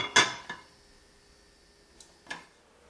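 A metal pressure cooker lid clanks as it is set on, turned and locked. There are a few sharp clicks and taps close by in a quiet room: two near the start and two more about two seconds later.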